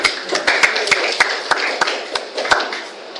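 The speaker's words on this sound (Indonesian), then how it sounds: "Ya, beri tepuk tangan mereka ini." Clapping at a Christian church service: scattered, uneven sharp claps ring out close and distinct over a continuous murmur of the gathered crowd.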